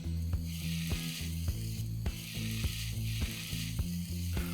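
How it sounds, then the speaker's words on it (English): Chopped tomato, ginger and green chilies sizzling in a hot pan for a chicken potato curry, a steady crackling fry with a few sharp metallic scrapes and clinks of a spatula stirring, no voices. "We're going to saute the tomato till it gets mushy."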